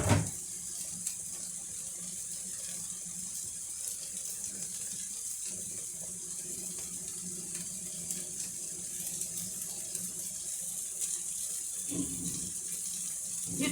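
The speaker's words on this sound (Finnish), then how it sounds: "Nyt tuolla pasta kiehuu" A pot of water with penne pasta boiling on the stove gives a faint, steady bubbling and watery hiss that runs evenly from start to end without talk.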